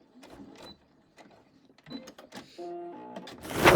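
A sewing machine backstitches across a stress corner of fabric while a cover is being sewn, giving a short, close run of rapid mechanical stitching that swells louder at the end after quieter handling noises.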